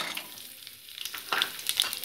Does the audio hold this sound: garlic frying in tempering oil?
yes